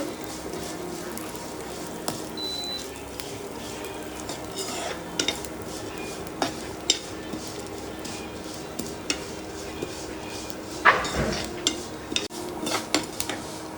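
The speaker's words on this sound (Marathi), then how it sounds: "आपण मस्त गोल्डन ब्राऊन होईपर्यंत आपल्याला भाजून घ्यायचे आहे तुपामध्ये मस्त" Vermicelli roasting in ghee for a sweet milk kheer, a soft, steady stir in a pan with occasional clinks of a spoon against metal, fairly quiet and close, with no talking.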